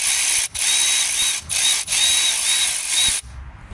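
A power tool whirs loudly in three bursts with short pauses between them, taking bolts off a BMW Mini diesel engine during particulate filter and EGR repair work. The whirring stays steady and close throughout, and no one speaks.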